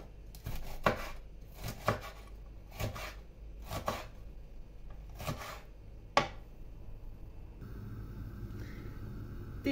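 A knife chops tomatoes and peppers on a cutting board in a series of sharp, evenly spaced strikes, close and clear, followed by quieter handling noise.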